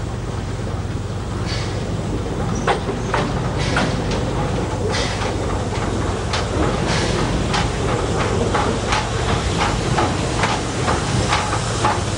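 A train on the Swiss Brünig line rolls into Wilderswil station with a steady low rumble, hissing and a series of sharp clanks and squeals as it slows, loud and close.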